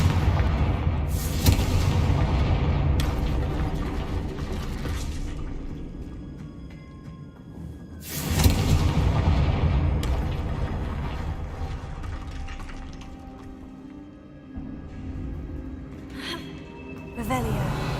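Confringo fire spells blast in Hogwarts Legacy, booming explosive hits landing at intervals amid game combat noise, with a voice shouting between the strikes.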